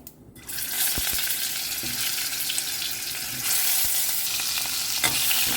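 Ambade, hog plums, dropped into hot oil seasoned with asafoetida, a steady close sizzle that swells after a quiet start, with a few spoon taps and stirring scrapes; no talking.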